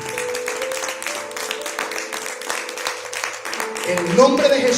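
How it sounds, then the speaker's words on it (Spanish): Moderate clapping from a church congregation carries on under a sustained tone and voices throughout, swelling slightly louder near the end. "Denles aplauso fuerte a Él."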